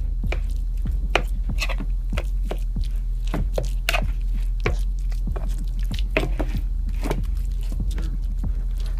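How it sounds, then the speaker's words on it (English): A spoon works through a wet mixture of Parmesan, egg and parsley for lasagna, making steady rapid squishing and clicking strokes close up over a low hum, with no talking. "After a little bit of stirring, it's nice and even"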